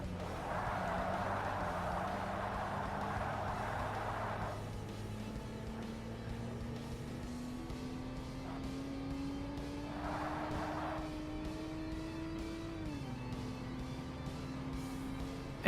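A sports coupe's engine in Forza Motorsport drones steadily through a race lap, its pitch climbing slowly as the car accelerates, then dipping at a gear change, with brief bursts of tire or track noise along the way.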